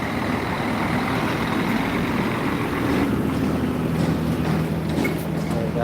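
Truck pulling out of a slaughterhouse yard, a steady low engine rumble that fills the whole stretch at close range, with voices talking over it.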